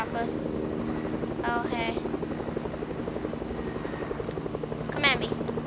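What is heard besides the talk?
helicopter in video game Fortnite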